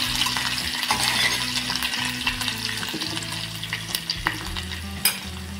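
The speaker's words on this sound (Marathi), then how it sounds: "फोडणीमध्ये ना थोडी कोथिंबीर टाकली ना की छान एकदम वास पण छान येतो" Chopped coriander sizzles in a hot oil tempering for a Maharashtrian dry shark curry, stirred steadily with scraping spoon strokes over a continuous loud frying hiss, with a few sharp clicks and no voices.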